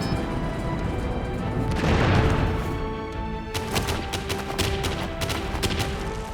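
Gunfire in a Spanish Civil War video game: a rolling burst of shots and a heavy boom, followed by rapid rattling volleys, loud and close.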